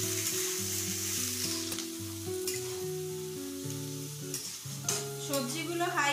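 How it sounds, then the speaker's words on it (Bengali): Chopped capsicum and beans fry over high heat for street-style veg noodles, giving a steady sizzle with occasional stirring scrapes beneath louder background music. "সবজিগুলো 2 থেকে 3 মিনিট ভালো করে ভেজে নেব।"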